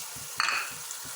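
Tomatoes and green chilies hit hot oil with ginger garlic paste for an aloo gobi gosht curry, giving a short sizzling burst that rises sharply then settles into a steady frying hiss, close and moderately loud.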